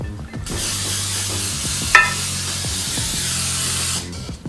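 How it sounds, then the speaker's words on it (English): A steady hiss of cooking spray onto a 9 by 13 inch baking pan runs for several seconds with a brief metallic click midway, close and fairly loud, no voices. "Next, I'm going to spray a 9 by 13 inch pan."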